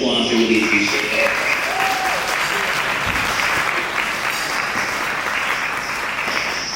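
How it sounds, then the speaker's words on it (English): Sustained, loud applause from a crowd honoring the champions at a brunch event, a dense wash of clapping that holds steady throughout, with faint voices mixed in. "if we can please just give all the champions one more round of applause"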